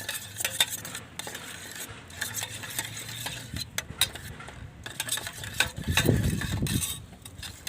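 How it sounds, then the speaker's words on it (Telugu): Spoon stirring a small bowl of yogurt, about five or six spoonfuls, until smooth and lump-free, as a home garden remedy for plant pests: repeated close scraping and clinking against the bowl, with a louder burst of stirring near the end. "దీన్ని బాగా ఇట్లా తీసేసుకోవాలి బాగా దీన్ని గడ్డలు లేకుండా మంచిగా వేసుకోవాలి"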